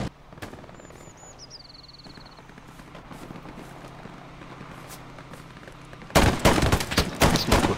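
A Webley Mark 6 pistol fires in the World War II shooter Hell Let Loose: after quiet battlefield ambience with a faint whistling sweep, a loud rapid burst of close gunshots erupts near the end.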